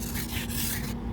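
A scraper rasps steadily across a snow-covered car outside, a loud, continuous gritty scrubbing that stops abruptly near the end.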